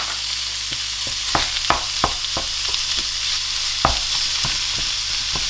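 Beef mince browning in a hot wok, a constant loud sizzle with intermittent sharp scraping and clattering strokes of stirring, close up and with no voices.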